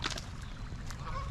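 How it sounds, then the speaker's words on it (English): Goose-like honking from a bird at a park lake after the rainy season, a couple of close, loud calls over steady outdoor background noise. "Look at this bird we found."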